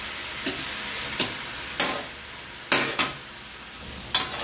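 Raw shrimp dropped one by one into a hot pan for ginataang kalabasa at sitaw, each addition giving a brief sizzling burst over a steady frying hiss, about six bursts in irregular rhythm.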